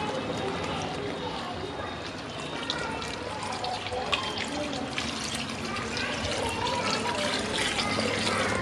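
Thick first-extract coconut milk pours into a pot of Ada Pradhaman, a Kerala payasam, over a very low flame, giving a continuous liquid splashing and trickling sound with a voice speaking over it.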